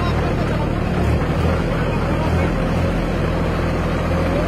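A Swaraj 855 tractor engine runs at 1600 RPM, making a loud, steady, low diesel rumble that holds constant throughout.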